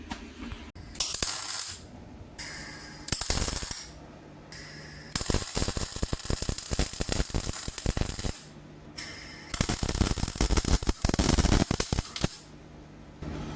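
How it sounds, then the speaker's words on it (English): Steel brackets being welded onto a steel chain: harsh crackling, spattering bursts come in several spells of a second or more, separated by short pauses, close and fairly loud with no talking. "I've made some quick little brackets to weld to the chain"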